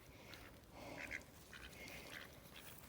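Mallard ducks quacking as they feed outdoors, several faint nasal calls in short bursts over low background noise.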